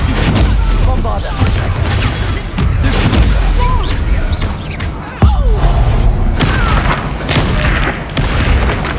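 Bombarda exploding spell going off in the video game Hogwarts Legacy: dense, booming blasts and heavy thuds rumble continuously through combat clamor, with a sharp impact near the middle and voices in the game heard among the explosions.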